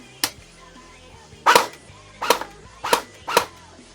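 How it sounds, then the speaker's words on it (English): A CM045A airsoft gun fires five sharp single shots at uneven intervals, each a crisp close-range snap against quiet background. "I just have to show you the gun sound"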